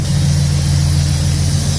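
Steady hiss of air escaping from a truck's air brake lines, a continuous broadband rush over a low idling engine hum, close and unbroken for the short stretch.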